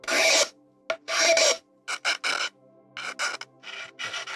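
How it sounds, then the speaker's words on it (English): Rough rasping strokes of a file shaping a raven's beak carved into a drinking horn, coming in short, uneven bursts with gaps between them, close and clear with no voices. "start roughing out the beak with the file"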